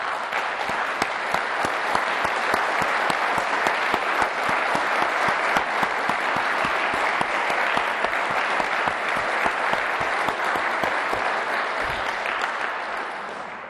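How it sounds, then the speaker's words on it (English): A sustained round of applause from the audience at the Commission on Unalienable Rights event, steady and dense for over thirteen seconds and fading slightly at the end. "let's give him a round of applause"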